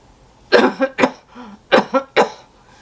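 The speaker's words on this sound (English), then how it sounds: "it kind of stimulates a cough at the end" A series of harsh, forceful coughs in two clusters, close to the listener, with short pauses between bursts.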